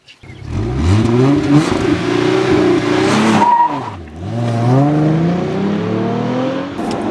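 2013 Hyundai Genesis Coupe with a 6-speed manual transmission accelerating hard from 0 to 60, the engine revving up loudly, dropping briefly at a gear change, then climbing again in a long close roar.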